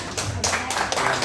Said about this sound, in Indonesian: Kita akhiri dengan kita berikan aplaus yang